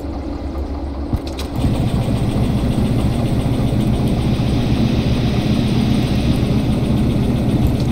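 Locomotive engine idling in neutral in the train simulator Derail Valley, a steady low rumble that holds at a constant level throughout, with a brief knock near the start and no talk.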